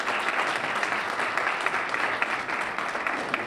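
Audience applause at a STEM and innovation welcome reception, a steady wash of many hands clapping throughout, fairly close and dense, greeting a speaker being introduced.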